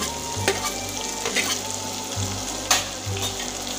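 Onion and green chilli fry in a pan, a loud close sizzle with spoon scrapes and clatters as they are stirred, with a low cooking hum throughout.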